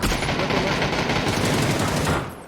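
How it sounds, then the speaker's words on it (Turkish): Sustained automatic gunfire in a PUBG match on the Sanhok map: a dense, loud, continuous burst of rapid shots lasting about two seconds before cutting off. "Sağdakini vur ben öndekilere vuruyorum"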